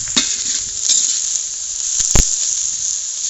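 Onions frying in a hot pan sizzle with a steady bright hiss while a utensil stirs them, giving a few sharp scrapes and clacks near the end, up close and with no talk.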